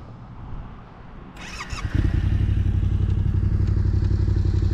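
Raptor quad engine starting up: clicks and a short cranking rattle, then the engine catches and settles into a loud, steady, close idle rumble.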